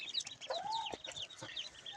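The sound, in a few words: chickens clucking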